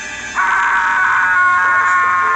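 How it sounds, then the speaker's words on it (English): A horrifying scream for help from upstairs: a loud, sustained high-pitched cry that starts abruptly and holds steady without a break, carrying clearly from a nearby room. "a horrifying scream for help came from upstairs"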